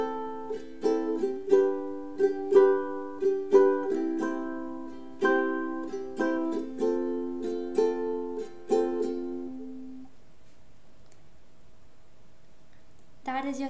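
Ukulele strummed with a down-up pattern through a four-chord progression, a dozen or so even, ringing strokes played close and clear, ending with a chord that decays into quiet.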